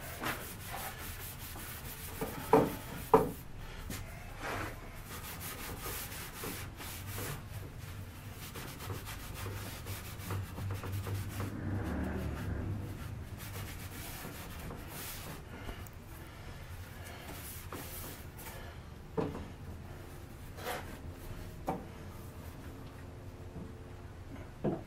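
A wooden sculpture credenza being hand-rubbed with a finish gives off long, soft, continuous rubbing and scrubbing sounds, close and faint, with a few light knocks and handling noises scattered throughout.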